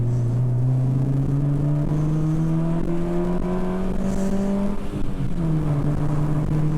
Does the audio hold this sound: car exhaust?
yes